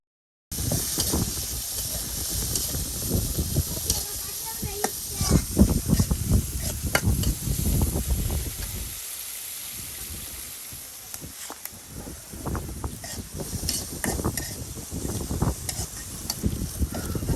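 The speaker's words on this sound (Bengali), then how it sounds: "এই যে দেখুন পেঁয়াজ রসুন একদম ভাজি ভাজি করে নেওয়া হচ্ছে" Chopped onion and garlic fry in a little oil in a pan, a continuous hissing sizzle with stirring scrapes, while people talk over it throughout.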